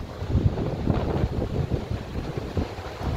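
Rough sea with large waves before a storm, a steady broadband roar of surf and gusting wind buffeting the microphone, continuous and loud with no speech.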